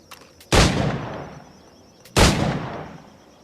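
Two loud, sharp firearm shots from a flintlock-era pistol in Assassin's Creed 4 Black Flag, spaced about a second and a half apart, each with a long rolling decay, with no talk over them.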